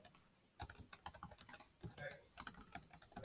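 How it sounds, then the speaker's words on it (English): Fast typing on a computer keyboard, a quick irregular patter of close key clicks with a short pause at the start and another midway, with no talk over it. "if I'm typing too fast for you, you can always pause the video and catch up."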